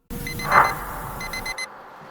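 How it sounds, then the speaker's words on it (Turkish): Alarm clock ringing in the Roblox game Paralysis: a loud, rapid electronic beeping pattern that repeats briefly, then cuts off into silence. "Alarm çaldı."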